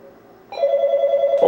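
A telephone rings for an incoming call on line 4, a single loud, bright electronic ring tone that starts abruptly and holds steady for about a second, close and clear.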